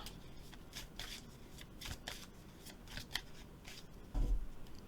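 Soft, rhythmic riffling of cards being shuffled up close, quiet repeated flutters ending with a dull bump.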